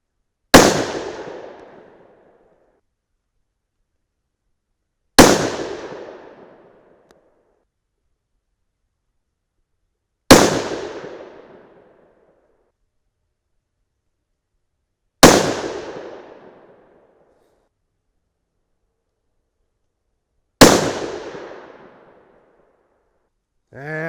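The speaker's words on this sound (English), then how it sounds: "let's move on and shoot a 5-shot group with the hand loads we loaded in Norma brass" A 6 PPC rifle fires a five-shot group of hand loads in Norma brass, each loud, sharp report spaced about five seconds apart and decaying into silence between shots.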